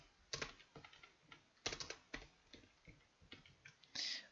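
Rapid clattering of keys on a computer keyboard, close and quiet, in uneven bursts of typing with short pauses between them.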